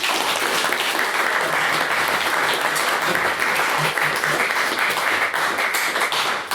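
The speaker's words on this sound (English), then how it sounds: "Another round of applause for Mr. Lee's maiden speech." A debate hall audience claps after a maiden speech, loud continuous applause filling the room at an even level throughout, with no voices over it.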